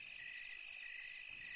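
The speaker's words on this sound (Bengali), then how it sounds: "শুধু ঝিঝি পোকার ডাক শোনা যাচ্ছে" Crickets chirp at night along a dark village road, a steady high-pitched trill that holds evenly throughout at moderate, constant loudness with no voices.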